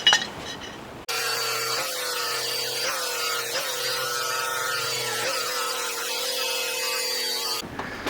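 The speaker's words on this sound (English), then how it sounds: "So lots of grinding to do before this is ready for us to start welding up." A power grinder works on metal welds for an EV conversion, a steady loud whine running unbroken for several seconds, with slight dips in pitch as it bears down on the metal.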